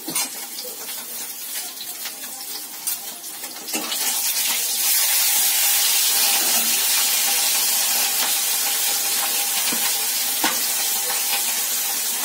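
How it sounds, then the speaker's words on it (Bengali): Eggplant slices fry in a pan, a loud bright sizzle that jumps up a few seconds in and then holds steady and continuous at close range. "বেগুনটা যে ভাজবো মেঘে ঢাকা বেগুন ভাজা"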